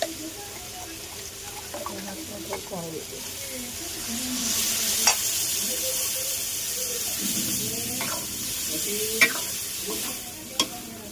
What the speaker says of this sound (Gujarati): તેલમાં થોડા બટાકા તળી ગયો હળદરને બધા નાખી દઉં તો મરચું નાખી દઉં